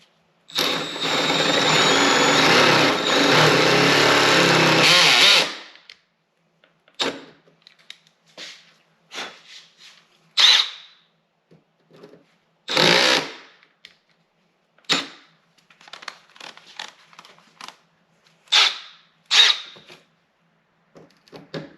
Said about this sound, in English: the sheet metal you're drilling through is pretty thin